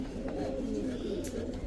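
A pigeon coos in a low, soft, rolling murmur close by, steady through the moment, with faint background noise and a brief higher chirp near the end.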